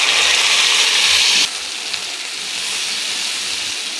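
Loud steady sizzling hiss as cumin seeds and a spice mix hit hot oil in a pan while cooking egg qorma, dropping sharply in intensity partway through then settling into a quieter continuous fry.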